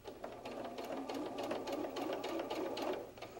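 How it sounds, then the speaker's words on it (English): A sewing machine stitches steadily around the bottom of a fabric fox softie hat brim, its rapid, even needle chatter close and continuous for the whole stretch with no talk. "Now I'm going to sew a stitch all the way around the bottom of the brim."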